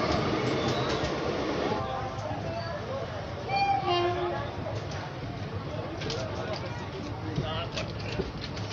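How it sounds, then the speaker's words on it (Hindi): The Ganga Damodar Express, running from Dhanbad to Patna, rumbles steadily past with a continuous rolling clatter, while a voice talks over it. "गंगा दामोदर एक्सप्रेस धनबाद से लेकर पटना जाने वाली।"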